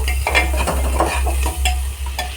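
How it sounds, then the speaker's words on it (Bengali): Spices being fried and stirred in a pan for mutton keema, with a low steady hum of the stove beneath repeated scraping spatula strokes and a crackling sizzle, loud and close with no talk. "সব মশলাগুলো দিয়ে দেবো একে একে একটু ভালো করে কষিয়ে নেব"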